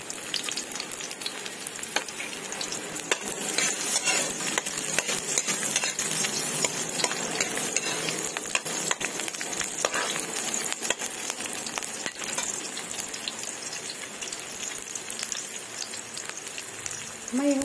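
Chopped onions fry and are stirred with a ladle in a hot pan while cooking bean sprouts with chicken liver, giving a loud, continuous crackling sizzle broken by frequent scraping and clinking strokes, with no talking.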